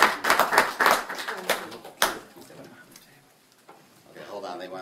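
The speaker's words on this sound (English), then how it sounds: "Let's give him a nice round of applause." A church congregation at a service claps in a brief burst of individual hand claps that quickly thins out and stops, after which faint voices murmur in the background.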